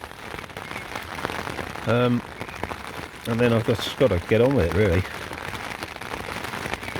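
Rain falls steadily along the South West Coast Path between Exmouth and Sidmouth, a continuous soft hiss running through the whole stretch while someone talks over it in short bursts.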